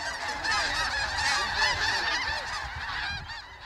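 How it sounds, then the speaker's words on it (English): A flock of geese honks and squawks loudly and continuously as they take flight, many overlapping calls close by. "the squawking grows louder, and without warning, the geese take flight"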